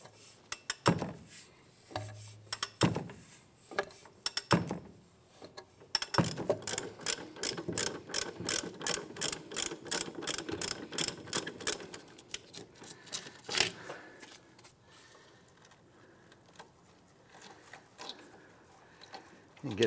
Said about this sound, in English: we're going to use our ratchet on it due to clearance issues with the air tool